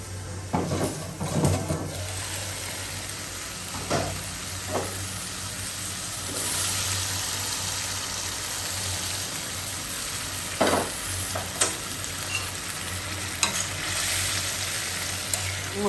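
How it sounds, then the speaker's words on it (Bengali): Potatoes fry with a spice paste and are stirred, giving a continuous sizzle with intermittent spatula scrapes and knocks against the pan, close and moderately loud, no speech. "এখন আমি মশলাটা আলুটা দিয়ে দিব।"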